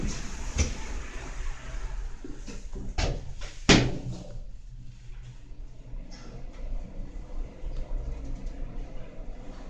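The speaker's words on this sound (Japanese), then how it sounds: "ドアが閉まります。" Doors on a Meitetsu Komaki Line train closing: a few thuds and a firm slam near the middle, over a constant rumble and hiss of train and station noise.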